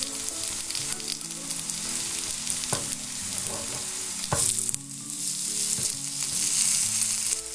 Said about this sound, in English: we're just going to cook these for a few minutes on each side until they're golden brown